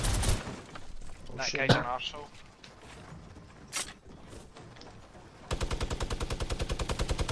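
Rapid automatic gunfire from a shooter video game, a steady fast rhythmic burst near the end after scattered shots and blasts, with players talking over the first part.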